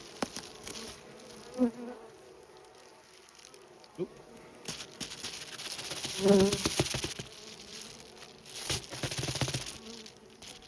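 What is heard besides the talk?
bees buzzing around an open beehive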